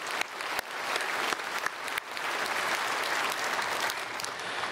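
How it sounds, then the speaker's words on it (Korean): A church congregation applauds the choir and orchestra after a Sunday worship service: dense, steady clapping from a large crowd that fills the room, loud and continuous with a few sharper claps standing out. "우리 찬양대 관현악단 다 감사드리고 박수로 축복하겠습니다"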